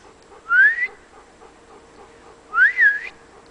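A person whistles outdoors to call dogs, two short rising-falling whistles about two seconds apart, clear and close over a faint low hum.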